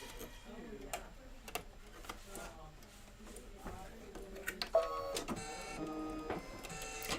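A Kimberbell embroidery machine stitches the last of a confetti design, a fast mechanical ticking that picks up into a busier, louder run near the end, with people talking softly alongside.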